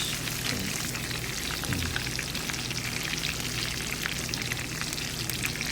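Shrimp tempura coated in Japanese crumbs deep-frying in hot oil: a dense, steady crackling sizzle, close and continuous, with no voices.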